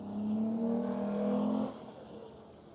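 Race cars at Grattan, including a Porsche and a Toyota Camry, pass close by with a loud revving engine note that holds steady, then drops away sharply as they move off, with no voices.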